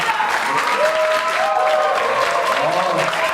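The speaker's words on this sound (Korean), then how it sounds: "3팀 박수 한번 부탁드리겠습니다." Audience applause for a startup team at a Startup Weekend final pitch event, a steady wash of clapping from a crowd lasting the whole clip, fairly loud with some voices mixed in.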